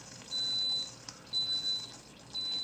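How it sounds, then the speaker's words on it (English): A high electronic beep sounds three times at a steady pace, each tone held about half a second, over a faint background hiss. "Now it just beeped."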